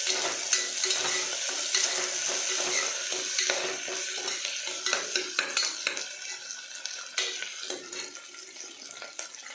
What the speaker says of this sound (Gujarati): વટાણા નાખીશું। બરાબર મિક્સ કરીશું।